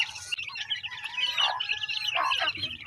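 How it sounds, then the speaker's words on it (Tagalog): Chicks peeping while being fed with scattered feed among other farm birds, a quick run of thin, bright chirps close by, with a short noisy burst at the start. "Yan, mga sisiw natin."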